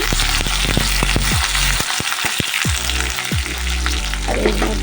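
Chopped onion crackles loudly as it fries in hot mustard oil for an egg tadka, a steady dense sizzle with a few sharp spatters and clinks of stirring throughout.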